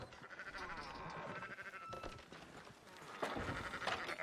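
Several sheep bleating in a video game, quick overlapping calls over a faint busy background, fairly close and moderately loud throughout.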